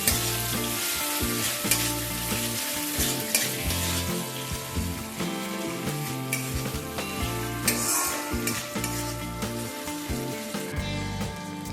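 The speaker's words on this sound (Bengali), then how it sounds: "এবার আদাটাকেও আমি ভালোভাবে একটু কষিয়ে নেব।" Ginger paste frying and being stirred in a pan while making a vegan chana dal, with steady loud sizzling and scraping stir strokes throughout, alongside a strong tonal musical bed.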